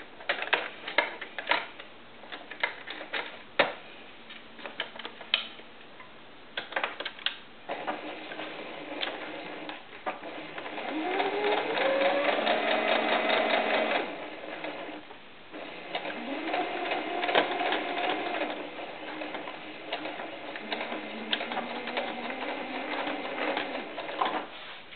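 Sewing machine stitching a quarter-inch seam on a doll skirt, starting with scattered mechanical ticks and clacks, then long bursts of fast whirring, close and moderately loud with no voices.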